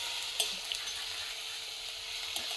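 Chopped vegetables for vegetarian chowmein frying in hot oil, a steady soft sizzle with a couple of brief scrapes as they are stirred.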